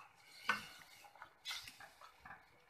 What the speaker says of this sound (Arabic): يتقلى قليلا، هكذا باش نستخلصوا حلاوة تاع البصل